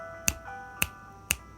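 Three crisp finger snaps ring out alone at an even, unhurried pace, each a sharp dry click over quiet background hum.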